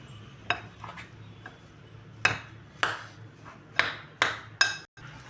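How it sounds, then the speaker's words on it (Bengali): Potato and chana dal tikki mixture being mixed by hand in a metal bowl, with a few sharp clinks and scrapes against the bowl, spaced irregularly, close and fairly quiet. "ভালো করে মেশাতে হবে এটা"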